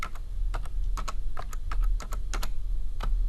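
Typing on a computer keyboard while entering a transpose formula in an Excel spreadsheet, with a quick irregular run of close, crisp key clicks over a low steady hum and no talking.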